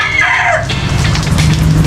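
Pet rooster crowing among chickens, ducks and turkeys during the rainy season, one drawn-out crow rising and falling over a steady low rumble of rain and background noise, with no talk.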